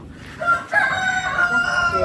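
A rooster crows loudly and close by in a village, one long drawn-out call with a faint background hum.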